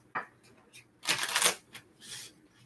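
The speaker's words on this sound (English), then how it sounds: "This is going to be our last shuffle." A deck of cards being shuffled up close: a quick riffle, then a louder sustained burst of flicking cards, and a softer final riffle.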